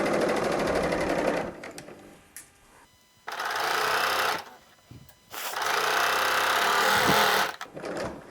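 Sewing machine stitching a hem on knit fabric for a drawstring-neckline top, running in three steady bursts of rapid mechanical whirring separated by short pauses.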